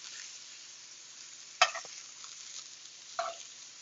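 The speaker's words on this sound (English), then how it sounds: "We're going to turn this over. The mushrooms have had a nice little sear." Mushrooms searing in a pan for a fine-dining dish give a quiet, even sizzle, punctuated by two sharp clatters as the pieces are turned over.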